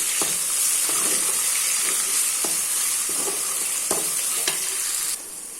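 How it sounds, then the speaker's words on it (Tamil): A small tomato sautéing with garlic in a pan, a continuous close sizzle with intermittent scraping stirs, the hiss dropping a little near the end. "சின்னதாக ஒரு தக்காளி மினி சைஸ் டொமேட்டோ ஒன் இதை போட்டுட்டு நல்லா வதக்கிடலாம்"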